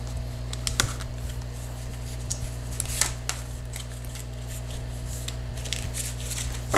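Tarot cards being shuffled by hand, soft riffling and flicking taps scattered over a steady low hum, fairly quiet and close.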